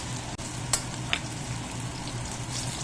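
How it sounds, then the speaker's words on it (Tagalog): Garlic and onion sauté in a hot pan with an even, crackling sizzle. A couple of sharp utensil taps punctuate the otherwise steady frying, and no one speaks. "Lahin natin igisa itong ating bawang. Sunod ang ating sibuyas."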